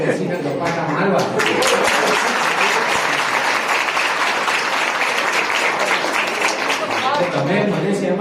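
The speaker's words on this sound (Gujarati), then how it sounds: "તમે મને શેમાં ગણીને તાળીઓ પાડી" Audience applause at a Gujarati talk on positive living: dense, sustained clapping from a crowd, steady and loud for about eight seconds, easing slightly near the end.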